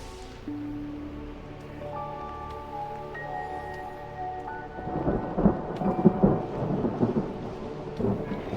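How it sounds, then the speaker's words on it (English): Rain and rolling thunder from the video game Mind Over Magic rise beneath soft game music, a low rumble swelling midway with a steady wash of rainfall. "I always forget that putting a floor instead of a roof lets rain in."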